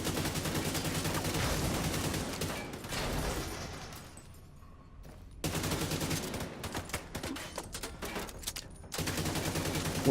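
Rapid automatic gunfire from the video game The Division 2, loud sustained bursts with a short lull before heavy shooting resumes and then continues in clusters.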